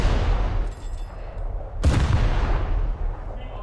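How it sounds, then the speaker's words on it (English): Destroyer gun turrets fire high-explosive shells in a naval combat game: a steady roar of heavy gunfire, with one sharp, loud blast near the middle followed by a long, rumbling tail. "let's fire some HE and try and disable those front gun turrets"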